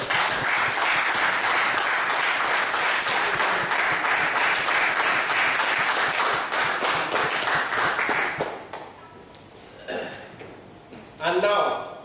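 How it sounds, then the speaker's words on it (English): A crowd at a Toastmasters meeting applauds steadily and loudly for about eight seconds, then the clapping fades out, leaving a few scattered bursts of sound near the end. "Let us give a round of applause to all our guests and members"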